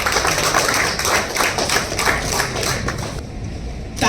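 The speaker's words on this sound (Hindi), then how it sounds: "तालियों की गड़गड़ाहट रुकनी नहीं चाहिए।" Dense, continuous applause from a crowd at an Indian tourism association chapter launch ceremony, loud and steady for several seconds before briefly thinning toward the end.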